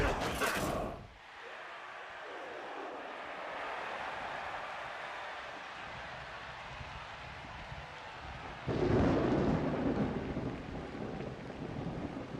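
Thunder from a lightning bolt in the video game Blood Bowl II: a sharp crack opens, then a long, low rolling rumble with rain-like hiss, and a second heavy burst of rumbling arrives near the end.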